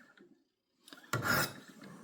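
A butter knife edge rasping against a coarse stone on a Wicked Edge WE60 sharpener: a faint scrape early on, a pause, then one loud, gritty grinding stroke that fades into lighter scraping.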